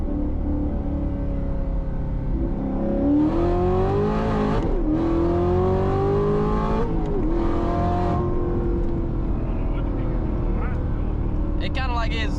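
A cammed Chevrolet Corvette Z06 roars loudly up through the revs in a steady, rising pull, with the wheels spinning and the note briefly dipping and surging, while people talk over the engine throughout.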